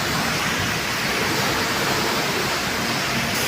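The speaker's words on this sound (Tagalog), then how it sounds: "Ayan lang nga yung fountain." Outdoor water fountain splashing steadily, a dense continuous rush of falling water at close range with no break, and no voices over it.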